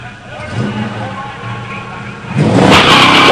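A 1970 Dodge Charger 444 and a 1969 Plymouth Roadrunner HEMI automatic launch off the line in a pure stock drag race, engines rumbling low then erupting into a loud revving surge near the end, with a voice over the idle.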